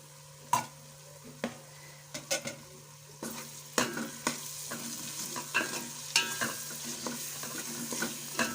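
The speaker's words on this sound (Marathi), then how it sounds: "थोडं तेल सुटेपर्यंत थोडं गरम करून घ्यायचं आहे, कारण अद्रक लसूणची पेस्ट टाकलेली आहे।" Ginger garlic paste frying in oil for egg biryani, a low steady sizzle broken by repeated sharp spoon scrapes and clacks against the pan, close and distinct.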